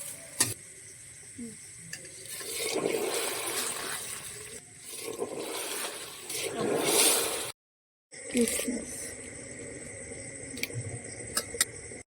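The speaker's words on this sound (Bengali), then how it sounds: "একটু জল দিয়ে দিলাম যাতে মাংসটা নরম হয়" Water poured into a pot of frying rice and meat gives a steady hissing, bubbling wash that swells and dips in waves, cut by a brief silence before the sizzle resumes, with scraping stir sounds near at hand.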